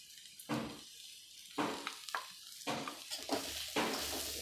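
Onions sautéing in oil for a poha dish, fairly quiet: a soft sizzle punctuated by about five distinct spatula scrapes and stirs against the pan, close by with no talking.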